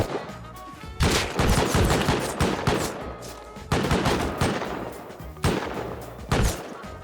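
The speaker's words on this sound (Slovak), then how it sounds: "Keď vystrelím do vzduchu, tak proste vytasíte zbraň a strieľate po sebe" Firearms in the video game Rust fire in several loud, rapid volleys of bursts, with short pauses between the clusters of shots.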